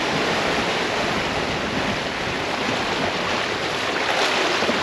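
Ocean waves strike a sailing boat side-on, a steady close rush of water and wind noise that runs continuously without a break and with no voices.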